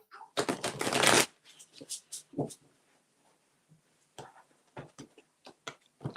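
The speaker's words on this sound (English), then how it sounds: "So Helen is going to pull your cards now." Playing cards are shuffled for a Halloween card-pull reading: one dense, close riffle burst, then scattered soft card taps and flicks under faint background voices.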